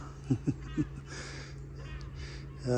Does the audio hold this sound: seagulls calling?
yes